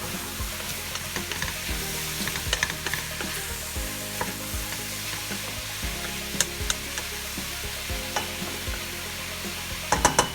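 Mushrooms for a creamy mushroom soup sizzle and fry in a hot pan as their water cooks off, a steady close crackle with scraping stirs throughout.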